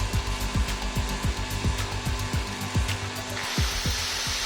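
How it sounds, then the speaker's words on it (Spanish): An electric drill running off the Liberty Engine generator, whirring steadily with a rhythmic, repeating pulse of loading strokes. No one speaks. "Vamos a conectar este taladro."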